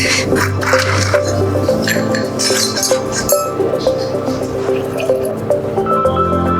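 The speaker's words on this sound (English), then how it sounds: "I'm just quickly washing the ice" Ice rinsed under running water for a cocktail, with steady dripping and splashing, glassy clinks of cubes shifting close by, continuous for several seconds without talk.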